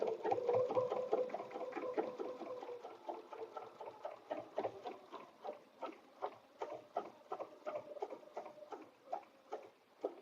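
A sewing machine stitches a quilted butterfly bed runner with a steady, close run of rapid mechanical ticks that starts busier and settles into evenly spaced clacks.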